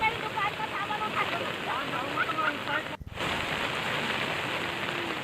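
Continuous heavy rain in Betul, a steady dense hiss of rain on surfaces, loud and unbroken apart from one brief dropout midway.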